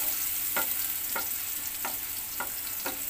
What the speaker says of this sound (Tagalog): susunod naman ang ating sibuyas, igisa lang natin ng kaunti.